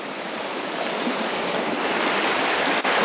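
Steady rushing of river water, fairly close and continuous, with a constant broadband wash and no voices.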